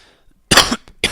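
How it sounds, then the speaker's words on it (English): A single loud, close cough in two bursts, harsh and breathy, with no talking. "Sorry for coughing"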